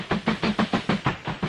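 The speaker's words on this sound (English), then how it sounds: "if I'm hearing a train, so let me see if I can catch up with it." Rhythmic steam chuffs from a steam locomotive running in the Mashinky video game, evenly spaced puffs with a hissing, breathy texture and no talking.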